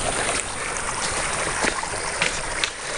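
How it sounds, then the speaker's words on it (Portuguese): A stream flows at a rural smallholding, with close, continuous splashing and rushing water broken by brief brighter splashes. No one speaks. "É muito bonito ver a água escorrendo"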